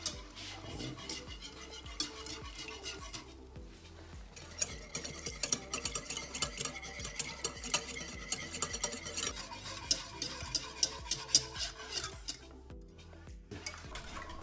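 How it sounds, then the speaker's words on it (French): Tomato and horseradish cream sauce simmering in a pan, with steady stirring scrapes and occasional utensil clinks against the pan, close and moderately loud, with a faint sizzle underneath. "je vais faire cuire tout ça pendant une bonne dizaine de minutes pour que la crème prenne forme comme il se doit"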